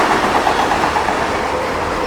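A fast CSX freight train in Germantown rushes past close by at about track speed, a steady loud broadband roar with faint rhythmic rail clatter running through the whole stretch, no voices.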